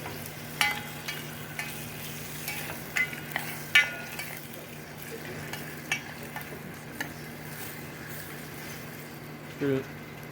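Black mustard seeds temper in hot oil for a Sri Lankan eggplant moju, making a soft, even sizzle. Scattered quick pops and clicks sit over a faint low hum.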